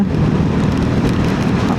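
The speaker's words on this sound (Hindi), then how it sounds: "it's completely raining" Steady heavy rain roars loudly and continuously during a night motorcycle ride through Varandha Ghat, a dense wash of noise with wind-like rumble underneath, no voices.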